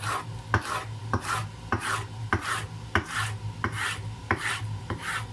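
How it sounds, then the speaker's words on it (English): A kitchen knife slices peppers into strips on a board, a quick regular series of about a dozen rasping cuts, each ending in a soft knock on the board, close and fairly quiet with no voices. "So, we cut them like that, in strips."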